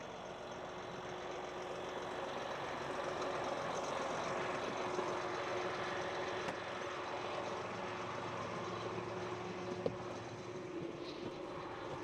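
A tractor engine idles steadily on a farm during night soybean planting, a constant low drone with a faint tonal hum held evenly throughout.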